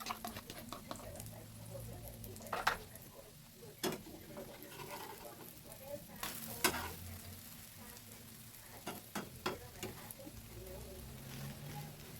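Eggs frying in a pan greased with leftover burger fat, giving a steady soft sizzle with scattered sharp crackles and pops, close and moderately quiet throughout.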